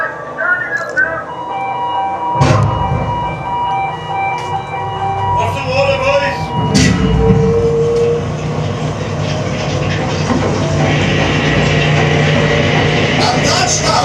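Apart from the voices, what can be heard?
coal mine shearer machine running at the coal face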